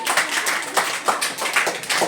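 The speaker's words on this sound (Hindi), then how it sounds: "जोरदार तालियां भी सबके लिए।" A classroom of students clapping their hands together in quick, steady bursts, a bright rhythmic patter, loud and close.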